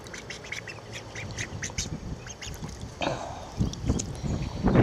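Ducklings swimming in a garden pool give repeated short, high quacks and peeps at close range, with light splashing and water movement underneath growing busier toward the end.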